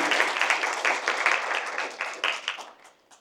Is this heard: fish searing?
no